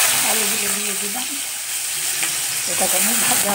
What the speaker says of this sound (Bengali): আমি আলু ভাজা বসাবো, তার জন্য আমি দিয়ে দিচ্ছি তেল।